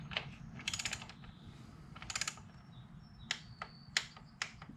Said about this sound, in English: let's go ahead and torque that 10 mil to 48 inch-pounds